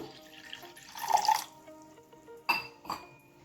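A glass of water is poured into a cooking pot while making homemade baby cereal porridge, giving a few short splashing bursts close by with quieter gaps between them and no talking.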